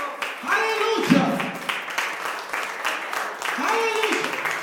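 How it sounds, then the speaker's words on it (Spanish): A church congregation applauds during a Spanish-language sermon, a broad steady wash of clapping mixed with voices and shouts. "Denle aplauso al Señor."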